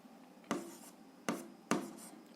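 Three short scratchy pen or chalk strokes writing numbers into a table during an algebra lesson, each a quick separate stroke in a quiet room with no talk.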